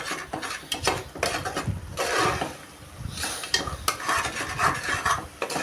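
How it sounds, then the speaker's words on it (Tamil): Mushroom biryani masala is stirred continuously in a pan, a close, busy scraping and clinking of a spoon against the pan with a light sizzle underneath, rhythmic and unbroken with no talking. "அதுக்காக நல்லா கைவிடாமல் கிளறி விட்டுருங்க"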